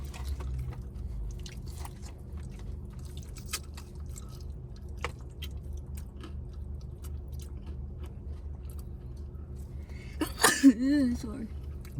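A person eating McDonald's chicken nuggets sneezes once near the end, a short loud burst after quiet chewing and soft mouth noises, with a brief voice right after.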